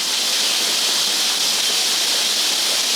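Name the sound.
waterfall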